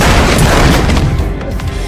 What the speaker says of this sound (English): pulled out a gun, and opened fire